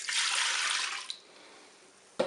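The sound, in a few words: pouring milk into the Cookeo cooker bowl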